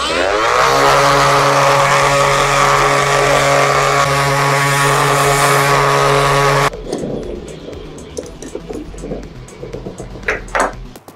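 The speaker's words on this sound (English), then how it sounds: "this is an orbital sander if you're looking into buying one" Orbital sander working over the carved body of a T-style electric guitar kit, a loud steady whine for several seconds that cuts off abruptly, leaving quieter scraping and handling noises.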